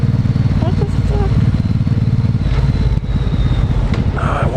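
A motorcycle engine revs up through its gears, loud and close, with rising drones heard over wind rumble.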